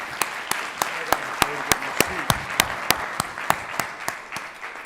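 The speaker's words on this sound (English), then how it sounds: "Let's give Richard one more round of applause" Applause at a conference plenary session, a round of clapping with distinct loud claps standing out in a fairly regular rhythm over softer background clapping, fading toward the end.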